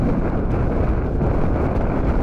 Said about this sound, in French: petite rafale de vent là qui a tout emporté sur la table, la chaise, les notes, tout